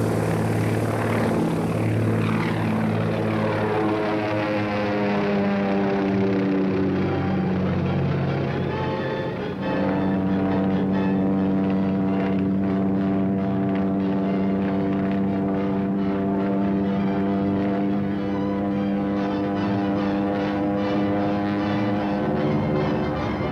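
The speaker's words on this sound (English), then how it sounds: "Planes are all set." Droning propeller aircraft engines in a 1939 film serial run continuously and loudly, their pitch sliding and shifting as the planes pass close by, with no voices.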